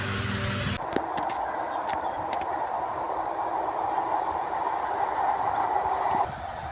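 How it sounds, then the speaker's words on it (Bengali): A train passing at a railway station, a loud, continuous broadband rumble and rush that holds steady for several seconds with a few sharp rattles early on, then drops off near the end. "ওই যে দেখেন ট্রেন যাচ্ছে"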